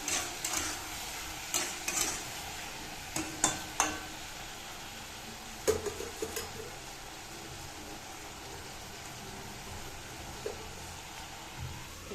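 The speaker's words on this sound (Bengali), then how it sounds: "তো চাটনিটা বসিয়ে দিলাম" Tomato chutney cooks in a pan with a soft, steady sizzle, broken by intermittent clinks and scrapes of stirring; the sound is fairly faint and no voice is heard.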